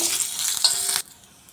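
Hot oil sizzles hard around curry leaves added for tempering, a dense, bright hiss that holds steady for about a second and then cuts off abruptly to quiet, with no talking.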